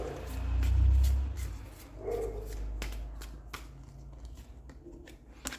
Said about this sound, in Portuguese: Agora, vamos pegar 3 cartas com o tarô.